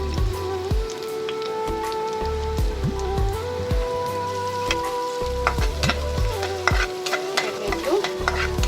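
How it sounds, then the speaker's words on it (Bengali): Chopped onion frying in hot oil for noodles, a steady close sizzle with repeated scraping stirs and spatula knocks throughout, no talking. "তেলটা একটু গরম হয়ে গেলে আমি একটা পেঁয়াজ কেটে নিয়েছি, বড় একটা পেঁয়াজ কুচি কুচি করে এটা দিয়ে দিব।"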